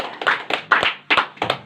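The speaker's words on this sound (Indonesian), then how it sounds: "Berikan tepuk tangan bagi Tuhan." Church congregation clapping hands together in several sharp bursts with short gaps between, loud and close, with no talk over it.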